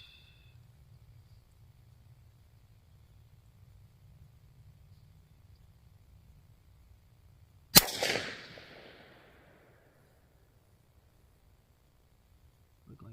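A CVA Scout V2 single-shot pistol in 300 Blackout fires one loud, sharp shot outdoors, with a short ringing echo that fades over about two seconds and low background rumble before it.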